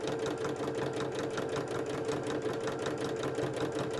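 Sewing machine running steadily while top stitching a hexie puff fabric bag, a close, continuous rapid mechanical whirr with an even needle rhythm throughout.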